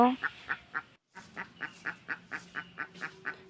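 Domestic ducks in a household courtyard quack loudly and close by in a steady series of sharp, repeated calls, with a brief silent break partway through.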